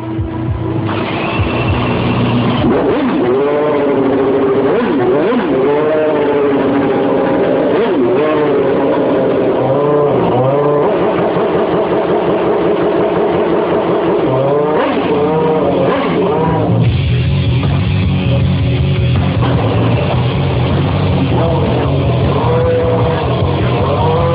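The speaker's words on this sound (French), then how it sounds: "un cœur qui bat à plus de 800 chevaux, un moteur de Formule 1" A Renault Espace F1 minivan with an 800-horsepower Formula 1 engine and six-speed semi-automatic gearbox screams loudly, its pitch rising and falling repeatedly through gear changes, with a deeper rough roar near the end.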